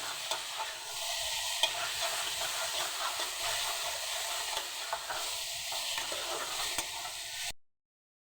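Whole boiled potatoes are sautéed with spices in a pan for potato curry, with a steady sizzle, frequent spoon scrapes and clicks, then abrupt silence at the end.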